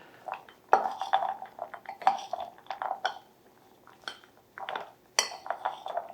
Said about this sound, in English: we're just going to mix this up good so it gets well distributed